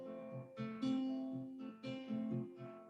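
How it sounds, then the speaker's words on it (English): A chord picked note by note on guitar, the first string left out, each tone plucked in turn and ringing together in a gentle, fairly quiet arpeggio repeated twice, close and alone. "that arpeggio sounds like this"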